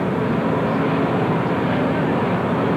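A steady, loud roar of a large airplane on the ground at Andrews Air Force Base, broadband and unbroken throughout, as from engines idling nearby.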